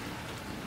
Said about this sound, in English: I'm not going out because it's raining